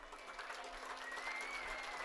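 Steady applause from a stadium crowd at a summer-league baseball game as an injured player rises and heads to first base, a continuous soft patter of clapping throughout.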